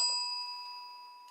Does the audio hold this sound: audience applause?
no